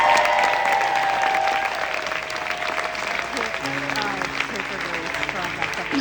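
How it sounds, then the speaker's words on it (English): A concert crowd applauds and cheers for a musician; loud, sustained clapping fills the whole stretch, fading slightly as a sustained music tone enters partway through. "Would you give him a round of applause?"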